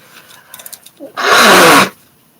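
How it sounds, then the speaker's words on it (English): One loud, explosive sneeze, close to the microphone, preceded by a few small sharp inhalations and followed by quiet. "Excuse me. All that sneezing"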